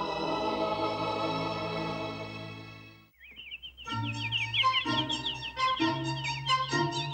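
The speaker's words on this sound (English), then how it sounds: "Is it a bird?" A bird chirps in a rapid series of high, bright tweets from a Disney children's English lesson, following a sustained chord of music that fades out.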